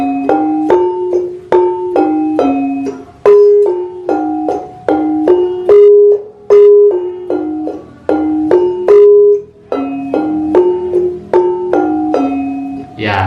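A full repeating melody from the song Macan Ucul on a metallic Sundanese gamelan demung, steady struck notes ringing into each other in an even rhythm, clear and close with no talk.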